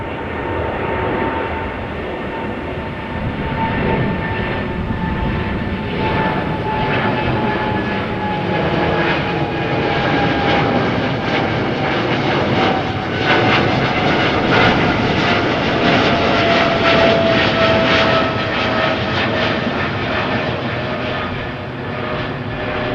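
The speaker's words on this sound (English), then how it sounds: "Qatar Cargo 777 freighter going to Budapest." A Qatar Cargo Boeing 777 freighter roars steadily at Amsterdam Schiphol, a loud, sustained jet engine rumble with a whining tone holding throughout, no voices over it.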